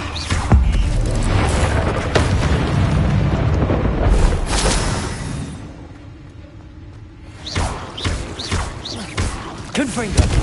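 Confringo blasting spell in Hogwarts Legacy going off in loud, booming explosive bursts amid rumbling combat noise, with voices shouting during the fight.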